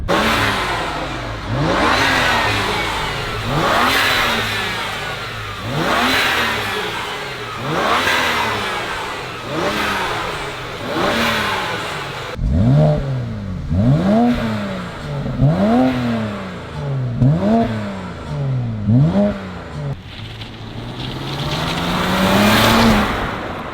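A BMW E90 335i engine revs repeatedly at full boost, with rising and falling sweeps in a steady rhythm, loud and close, ending in a longer pull.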